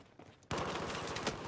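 Gunfire in the video game Battlefield 4 starts abruptly after a quiet moment, a dense, loud burst of rapid automatic shots continuing steadily to the end.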